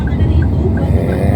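A car drives past nearby, giving a steady, fairly loud low engine rumble with road noise that holds through the short moment without fading.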